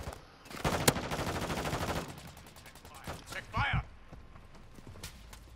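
Sniper gunfire and combat sounds in Call of Duty DMZ, with a dense burst of loud shots and clatter early on, followed by sparser sharp reports and impacts amid game noise and talking.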